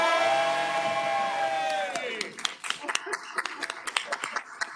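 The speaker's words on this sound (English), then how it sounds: "Can I have a cheer from the North Hudson campus?" Students at a North Hudson campus college convocation cheer and whoop after a sustained shout, followed by scattered clapping and brief yells, moderately loud and close.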